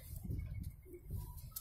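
Pigeons and turtle doves cooing outdoors on a seaside promenade in Anapa, low soft calls repeating through steady background ambience, with no clear talk over them.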